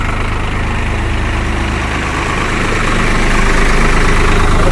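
A Swaraj 744XT tractor engine idles steadily at about 1000 RPM, a loud, continuous low diesel throb with a rising hum toward the end and no voices.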